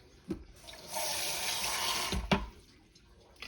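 Tap water runs into a cooking pot of red beans with a steady rushing gush that stops after a couple of seconds, bracketed by sharp knocks of the pot or handle, with no talking.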